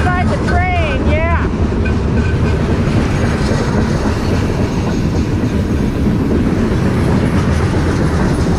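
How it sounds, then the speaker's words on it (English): A big freight train with four locomotives rolls past at Cajon Pass near Hesperia, California, a loud continuous rumble and clatter of wheels on rails, with a few short whoops over the opening seconds. "Riding alongside the train"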